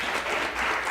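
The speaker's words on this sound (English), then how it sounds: "So let's give her a round of applause." Sustained applause from a conference audience at a shale energy extraction event, a dense steady wash of clapping with no gaps or voices.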